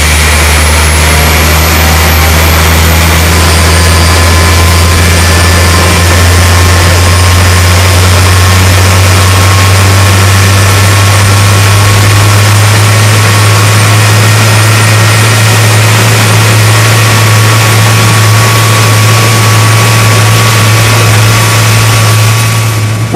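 Engines of a Qantas Boeing 707-138B jet, brought back to running after six years idle, make a loud, steady drone with a deep low rumble and whining tones that hold unbroken for the whole stretch.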